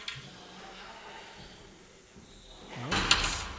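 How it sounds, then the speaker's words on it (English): A glass door on a professional squash court is shoved and forced shut, with soft scraping and rattling building to a sharp bang and clatter near the end. "Lana Harrison having some trouble there with the door"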